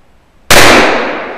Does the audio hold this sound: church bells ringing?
no